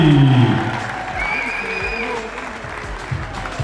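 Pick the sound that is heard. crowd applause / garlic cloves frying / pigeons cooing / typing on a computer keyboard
crowd applause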